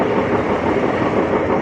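Inside a passenger train on the Akola to Akot line, a loud, continuous rumble of wheels on track fills a short stretch without any voices.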